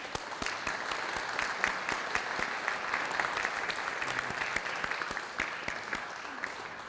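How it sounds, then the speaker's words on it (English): A standing audience applauds an honoree at a high school Hall of Fame ceremony, steady dense clapping filling the room for several seconds at moderate distance. "Everybody, let's give him a round of applause."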